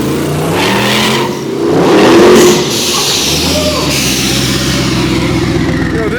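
Twin-turbo LS-powered 1927 T-bucket rat rod accelerating hard, a loud engine roar that surges and swells before settling into a steady rising drone, with voices underneath.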